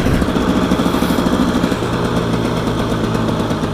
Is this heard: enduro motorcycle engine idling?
yes